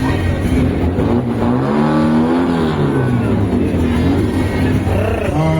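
A Mini support car drives past at a concours d'elegance motor show, its engine loud and close, rising and falling in pitch as it passes, with a steady low rumble throughout.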